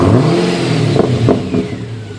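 A 2009 Pontiac G8 GT V8 with a muffler delete revs up on the lift, a loud, close, raspy exhaust note with a few quick throttle blips over a steady rumble.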